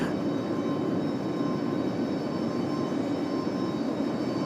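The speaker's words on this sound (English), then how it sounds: "So we got our JetBlue Dominican Republic special livery coming in" A JetBlue airliner in Dominican Republic special livery arrives at Raleigh-Durham International, its engines making a steady, loud, unbroken roar throughout.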